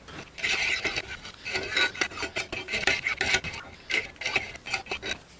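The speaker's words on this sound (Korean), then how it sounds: "칼을 좀 갈아 볼까요?" A kitchen knife is being sharpened with a steady run of rough, rasping strokes, loud and close, with no talking.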